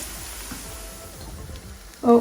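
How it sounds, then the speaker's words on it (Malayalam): Beef pieces fry in hot oil, making a soft continuous sizzle with faint crackling, close by; a brief louder burst, likely a stir or a short voice, comes at the very end. "ബീഫ് നന്നായിട്ട് ഫ്രൈ ആയി വന്നിട്ടുണ്ട്."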